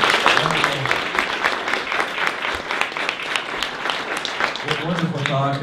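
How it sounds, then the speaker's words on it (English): An audience gives a speaker, Mike Lorenc, a sustained round of applause, dense and steady for several seconds, with voices talking over and under the clapping. "let's give Mike Lorenc one big round of applause again"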